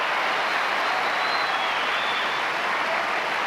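Big tennis crowd at the 1988 Australian Open final, Pat Cash against Mats Wilander, breaking into loud, sustained applause that fills the stadium steadily, no voices standing out.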